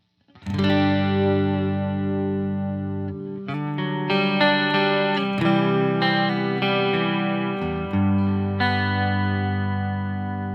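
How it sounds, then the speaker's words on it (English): A sustained electric guitar plays chords with a shimmering, doubled chorus wash and slight grit, ringing steadily with a few chord changes and no talking. "I call it modulation or chorus for people that don't like chorus."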